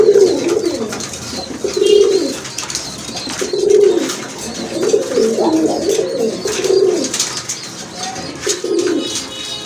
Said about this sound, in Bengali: আরেক জোড়া কবুতর দেখতে পাচ্ছেন এটা হচ্ছে রাজশাহী গিরিবাজ কবুতর